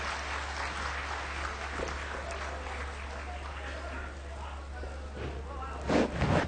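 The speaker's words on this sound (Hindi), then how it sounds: "तालियों के महास्वर से इन सभी महापुरुषों का अभिनंदन करेंगे" Audience at a ceremonial gathering in Burari applauding to welcome distinguished guests: a steady wash of clapping from a crowd, fairly even throughout and swelling slightly near the end, with no talk over it.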